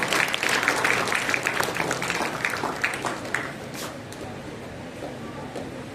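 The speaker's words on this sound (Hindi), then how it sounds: "ज़ोरदार तालियों के साथ में" Audience applause greets a guest at a school alumni talk, dense and close clapping at full strength for a few seconds before gradually thinning and fading.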